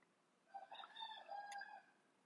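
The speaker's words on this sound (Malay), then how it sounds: "Ada ayam." A rooster crows once in a drawn-out, far-off call, faint against a quiet background.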